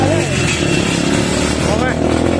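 Motocross motorcycles on a trail loop in Paete, Laguna, a loud continuous rasping engine drone close by, with short rising revs.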